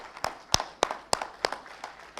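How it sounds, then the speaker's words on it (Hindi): A seminar audience in a Delhi hotel hall clapping in unison, sharp, evenly spaced claps about three per second, fairly close and loud, with no other sound between them. "एक बार जोरदार ताली"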